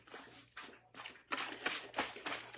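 A dog named Thunder lapping water from a bowl: quiet, close wet laps and splashes in an uneven rhythm of bursts, with faint background noise.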